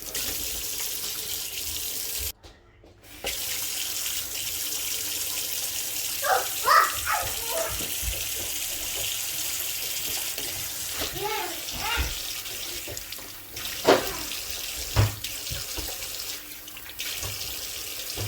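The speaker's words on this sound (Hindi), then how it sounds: "तो अब इसको भी अच्छे से साफ करके पानी से, तो फिर दोबारा से मैं वॉश करूँगी इसको।" Tap water runs steadily into a kitchen sink while greens (saag) are washed, with handling splashes and clatters breaking through the continuous flow; a voice talks at times.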